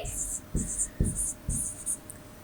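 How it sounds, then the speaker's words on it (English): Marker strokes squeaking and scratching across a classroom board in four short bursts, close and clear, with a faint thud from the hand or pen between strokes. "I'm just going to write it on top"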